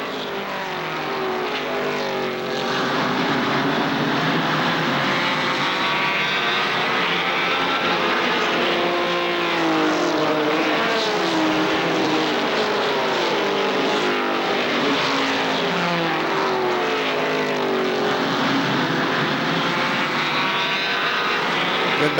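ARCA stock cars roar past completing a lap, a loud sustained wall of engine noise with pitch shifts as several cars pass close by, continuous throughout with no talk.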